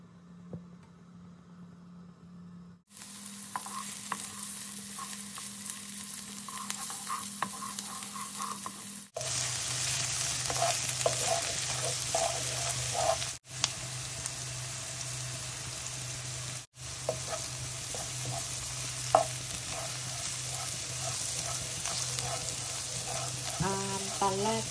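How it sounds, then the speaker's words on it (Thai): Onions sizzle and crackle steadily in hot oil in a pan, with occasional stirring clinks and shifts in intensity, no voices. "พอกระทะร้อนก็ใส่น้ำมันลงไปนะคะ"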